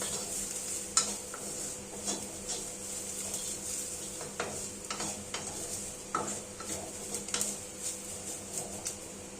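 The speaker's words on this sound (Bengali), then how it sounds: "সমস্ত মশলা ভালোভাবে ভাজা হয়ে গেলে" Spices frying in a pan, a soft continuous sizzle under frequent clicks and scrapes of a spoon stirring against the metal, close and moderately loud.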